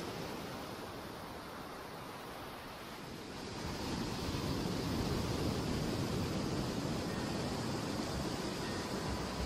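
Surf waves breaking on a shore in Vietnam make a steady broadband wash with wind noise, fairly faint and distant. The rush swells louder partway through and stays at that level, with no one speaking.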